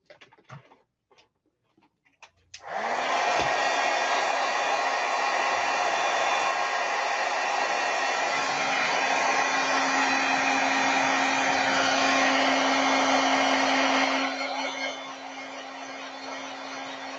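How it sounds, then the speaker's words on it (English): A heat gun drying stamped designer paper starts up after a few faint handling sounds, then roars as a loud, steady blowing hum with a constant whine, softening slightly near the end. "I'm just going to hit this with the heat gun"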